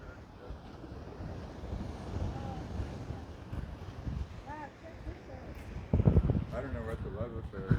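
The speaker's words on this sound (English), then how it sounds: "Listen to the sound of waves crashing into rocks, and the water is even splashing up until here." Waves crash and surge against rocks along the Bay of Fundy shore, a steady windy rush of surf with heavier splashes near the end, while a voice speaks over it.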